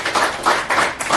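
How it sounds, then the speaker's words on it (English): Audience applause at a workshop, a short burst of rhythmic clapping with a steady, fairly loud patter and no voices over it. "a round of applause, everybody"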